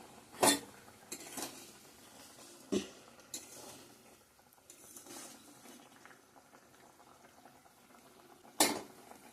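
Fish curry with mustard paste simmers quietly in a pot, a faint bubbling bed broken by a few sharp clinks of a utensil against the metal.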